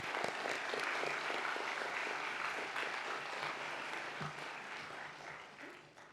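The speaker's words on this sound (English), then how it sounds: "Let us give a round of applause to the graduates who have just been presented." Sustained applause from a large commencement audience honoring newly presented graduates, a dense steady wash of many hands that holds for several seconds before tapering slightly.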